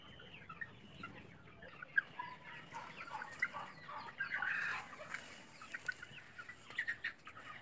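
Hens and chicks in a henhouse at evening, a steady flock of soft clucks and chirps with occasional louder squawks, close and continuous without talk.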